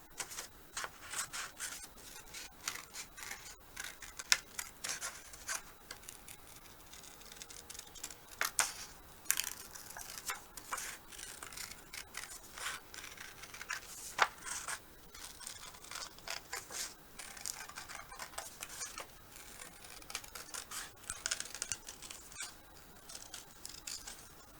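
Scissors cut a shape out of a watercolor card, with many quiet, close snips and paper crinkles in an irregular rhythm over a near-silent background.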